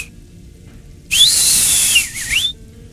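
A person whistles deliberately badly to mimic poor flute playing: one wavering, breathy tone held for about a second and a half, then a wobbling, pitch-bending tail, close and fairly loud.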